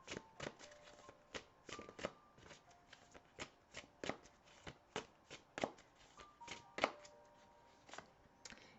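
Tarot cards are shuffled by hand in a quiet room, a run of soft, regular riffling snaps and slaps repeating roughly every half second, close and faint, with no talking.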